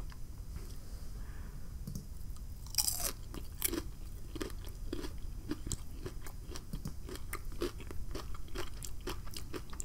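Crunchy chip topped with tomato, salt, black pepper and dill-infused Havarti cheese being chewed close up, a first loud bite followed by a run of rhythmic crisp crunches with no talk.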